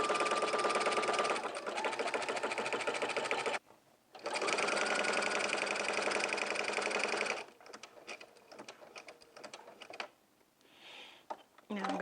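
A sewing machine runs in long continuous bursts while fabric is steered around a curve on a jumpsuit, with a short pause between runs and quieter handling noises toward the end.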